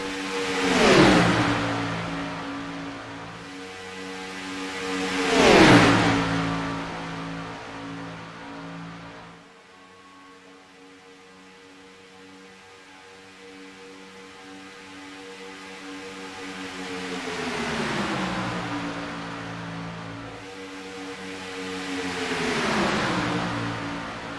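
Race car engines from a racing video game roar past in swelling waves, each rising and then dropping in pitch as cars close in and pull away, with a quieter lull between passes.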